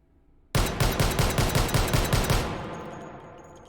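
A rapid string of about a dozen loud, sharp pistol shots rings out from a stocked Desert Eagle .50 AE in the H3VR virtual reality game, each blast evenly spaced, then a ringing tail fades after the last shot.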